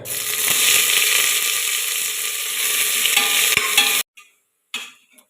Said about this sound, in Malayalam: അപ്പോൾ നമ്മുടെ ഉള്ളിയും കൂടെ വറുത്ത് വരാൻ.